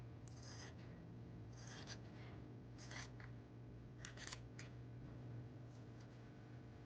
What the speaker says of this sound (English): So I'm cutting this other strip, the buttonhole strip.